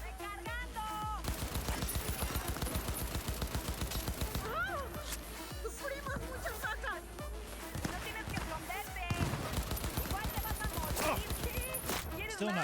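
Rapid sniper and automatic gunfire in a Cyberpunk 2077 firefight, loud and nearly continuous with bursts of sharp cracks over game music and effects.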